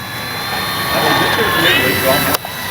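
Flightline 1200mm F8F Bearcat RC warbird motor on its takeoff run, a loud steady whine with high tonal lines rising slightly in pitch, then a sharp cutoff near the end.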